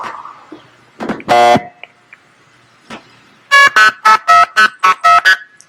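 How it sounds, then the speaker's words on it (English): A blue box sends multi-frequency in-band phone signaling tones: a few scattered beeps, then a rapid run of about seven loud, clipped two-tone bursts in quick, even succession. "These are multi-frequency tones."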